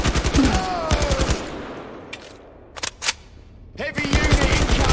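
Automatic machine gun fire in the Blood and Truth shooter game, bursts of rapid rounds at the start and end with scattered single shots and a quieter stretch between, loud and close.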